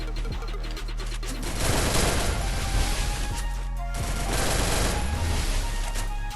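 Sustained bursts of automatic gunfire from a mobile shooter video game, loud and dense rapid rattling over about six seconds with a brief pause in the middle.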